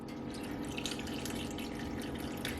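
Water pours steadily into a pot holding chicken, making a continuous bubbling, splashing wash that stays even and fairly quiet throughout.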